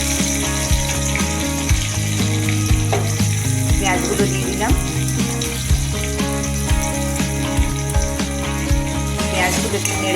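Chopped garlic, onion and vegetables frying in a pan for a rohu fish curry, a steady loud sizzle running throughout with occasional utensil scrapes and knocks over it.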